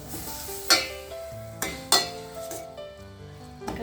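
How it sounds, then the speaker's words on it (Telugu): Grated raw papaya for halwa is stirred and fried over a low flame in a pan, with a soft sizzle underneath and a few sharp clinks of the utensil against the metal at irregular intervals. "ఇది లైట్గా కొంచెం పచ్చి వాసన పోయేంత వరకు వేయించుకుందాం."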